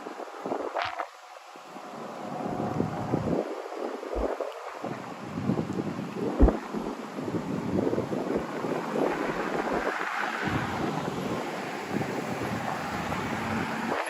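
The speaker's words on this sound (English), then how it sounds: "It is a windy day here in Miami." Strong, steady wind in Miami, Florida roars and buffets the microphone for the whole stretch, with gusts rising and falling and no talking.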